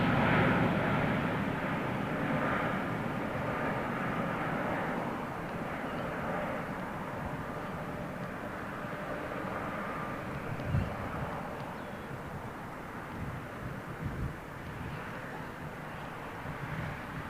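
A Boeing 777 freighter at London Heathrow roars steadily with a broad, sustained jet rumble that eases slightly over time, heard from a distance.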